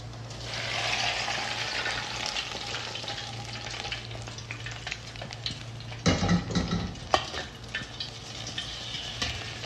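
Fried onions crackle in hot oil and are lifted out to strain for koshari, a steady close sizzle with clinks and a louder burst of spattering and scraping partway through, no talk.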